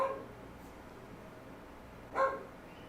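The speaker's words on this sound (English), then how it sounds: "Dog." A dog gives two short barks, one at the very start and another about two seconds later, faint and distant over quiet background hiss, with no talking.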